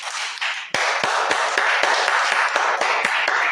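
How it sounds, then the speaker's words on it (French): A congregation at a Bible-teaching worship service bursts into loud, steady clapping after a brief quieter start, with sharp rhythmic slaps standing out over the dense wash of hands. "Applaudissez le Seigneur."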